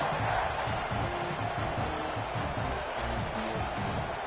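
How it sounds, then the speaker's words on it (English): A big crowd at a Virginia Tech home football game against rival Miami roars steadily after a long quarterback run, a dense, continuous wall of cheering and shouting that never lets up. "listen to this crowd against their rivals"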